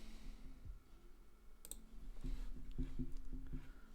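Faint, sparse clicks of typing on a computer keyboard sit over a steady low room hum, with a few keystrokes grouped toward the end.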